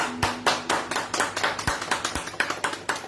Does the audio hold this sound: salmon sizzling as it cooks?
no